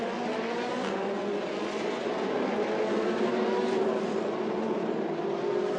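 Formula Renault Eurocup race cars at Spa-Francorchamps set off on a formation lap, their engines a steady, continuous roar heard from a distance with no distinct passes.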